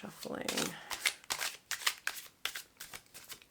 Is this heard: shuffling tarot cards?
yes